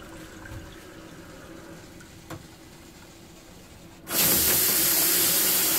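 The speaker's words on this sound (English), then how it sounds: "the water is filling up the membranes" A BRS 4-stage Value Plus RO/DI water filter system starts up as water fills its membranes: a quiet hum with a faint click gives way to a sudden, loud, steady rushing hiss of water.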